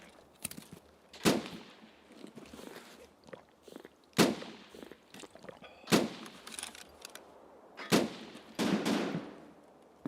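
Gunfire in the video game Escape from Tarkov on the Streets map: several sharp, loud single shots spaced a second or two apart, with a denser burst near the end, heard alone without talk.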